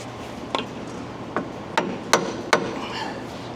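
Five sharp metallic hammer strikes ring out at uneven intervals during a steering box repair on a Freightliner Cascadia truck, close by and fairly loud, each with a brief ringing decay against a quiet room.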